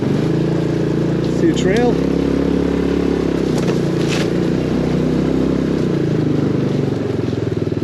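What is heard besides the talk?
HammerHead 250cc go-kart engine driving around track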